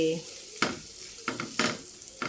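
Dry potato curry (sabzi) is stirred in a pan with a spoon, giving a soft continuous sizzle broken by a few sharp scrapes and clinks of the utensil against the pan, close and without talk.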